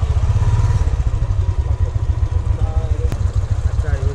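Motorcycle engine running loud and close before a bike ride on a Mahabaleshwar trip, a steady low rumble with clattering idle texture and a sharp click partway through.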